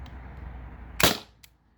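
A modded T4E TR50 paintball marker fires once on CO2 from Umarex cartridges: a single sharp, loud pop over a quiet background, followed a moment later by a much fainter short burst.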